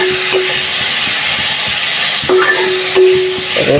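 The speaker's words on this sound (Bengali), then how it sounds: "পেঁয়াজ রসুনের সাথে কাজকি মাছগুলো হালকা একটু ভেজে তারপর মশলাগুলো দেবো" Dried kachki fish sizzling in hot oil with onion and garlic, a steady loud fry hiss with occasional stirring scrapes.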